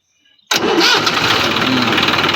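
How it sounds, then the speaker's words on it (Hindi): A Massey Ferguson 241 tractor engine cranks briefly and then fires, catching at once and settling into a loud, steady diesel idle that runs close and continuous to the end. "गाड़ी स्टार्ट हो गई अच्छे तरीके से"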